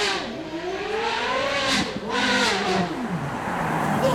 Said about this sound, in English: Nothing sounds like a Ferrari GT.